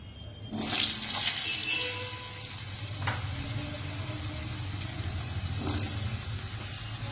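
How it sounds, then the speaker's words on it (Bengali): Cut potatoes hit hot oil tempered with radhuni seeds, setting off a steady, close sizzle that swells when they go in and keeps crackling evenly, with no voices. "তেলের মধ্যে দিয়ে দিলাম এক চামচ রাঁধুনি ফোরনটা একটুখানি নেড়ে নেব এবার দিয়ে দিচ্ছি কেটে রাখা আলু"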